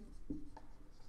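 A chemical name is written by hand on a board during a chemistry lesson, a short, close rub of the marker or chalk stroke against the surface, heard alone and quietly.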